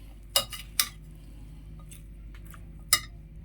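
Spoon clinks sharply against a bowl a few times while dahi chana chaat is mixed with green chutney, with quiet pauses between the taps.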